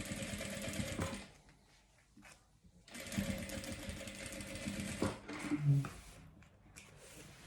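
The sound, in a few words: sewing machine stitching a safety seam around fabric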